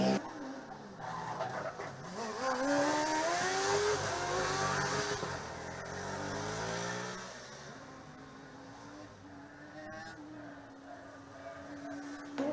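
A Formula Student combustion race car engine revs and drones past during the Formula Student Germany 2018 endurance event, rising and falling in pitch, loud at first then fading into the distance, with crowd noise in the background.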